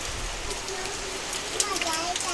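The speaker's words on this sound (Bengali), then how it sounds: "হাওয়ায় হাওয়ায় বৃষ্টি হচ্ছে, এই দেখো, এই দেখো, উল্টো পাল্টা ঝড় দিচ্ছে আর বৃষ্টি হচ্ছে" A storm drives rain on strong, gusting wind. The rain makes a dense, continuous hiss and patter that holds steady throughout, with a few louder splashes near the end.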